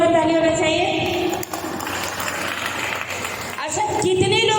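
A large audience at a Safe Shop business gathering breaks into sustained, loud clapping, a dense wash of applause lasting a few seconds between stretches of amplified voice and background music.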